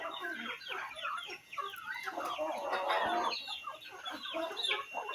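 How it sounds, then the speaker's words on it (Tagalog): Native Bisaya chickens cluck and squawk continuously in a flock, a dense, busy chorus close by that swells in the middle, with occasional crowing-like calls, outdoors at a backyard feeding. "Mga manok ko hulat ha."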